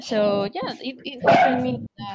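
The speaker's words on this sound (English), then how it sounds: "Sorry about my dog." A dog barks and yips excitedly in a home during a podcast recording, its sharp barks and a whimper mixed in with someone talking close by.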